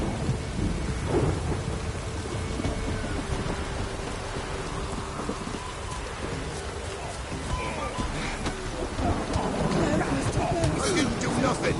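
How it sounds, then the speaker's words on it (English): Rain and rolling thunder in The Witcher 3 fill the scene, a steady hiss of rainfall with low rumbling thunder swelling and fading, plus a few brief louder crackles near the end. "It's drizzly."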